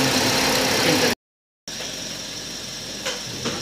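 A car engine idles steadily after an ignition coil replacement, as a moderate, even hum with a brief cut to silence and a couple of faint knocks near the end.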